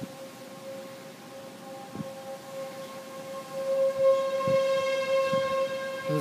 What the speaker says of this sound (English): sirens are going off now.